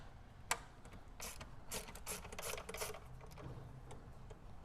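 A ratchet loosens the J-hook bolt holding a car battery in a GT-R, with bursts of rapid mechanical clicking close up and no talking.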